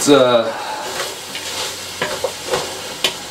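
Red onions sizzle in a pan over slow heat, a close, steady frying hiss with a rising squeal at the start and a few light scrapes of stirring.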